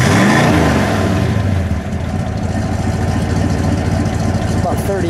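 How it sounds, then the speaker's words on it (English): A 1961 Chrysler 300G convertible's engine revs up loudly nearby in cold weather, then drops back to a steady, throaty idle with a rumbling exhaust. "Give it a little rev, please."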